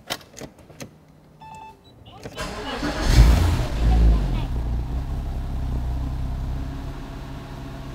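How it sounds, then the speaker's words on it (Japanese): A 2008 Porsche Boxster (Type 987) 2.7 engine cranks and starts after a few clicks, roars up briefly, then settles into a steady idle close by. "ではエンジン始動していきます。"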